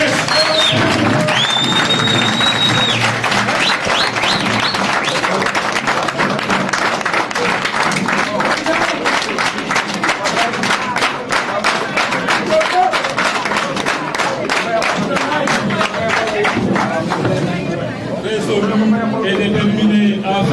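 A large political rally crowd applauds and cheers, dense continuous clapping with shouts and a loud amplified voice over it, sustained throughout.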